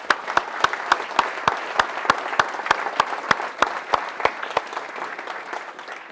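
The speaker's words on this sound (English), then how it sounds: "So clap it up for all the coaches." An audience claps for the coaches in a steady round of applause, with several sharp, rhythmic claps standing out close by against the softer crowd clapping.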